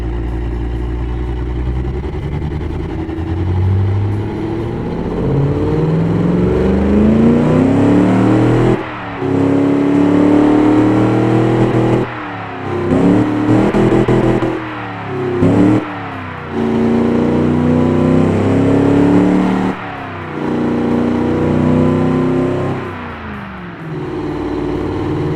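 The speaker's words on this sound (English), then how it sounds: "I love the V8 noise." A V8 muscle car engine roars close by, revving up in repeated surges with brief drops between, its deep rumbling note rising and falling loudly.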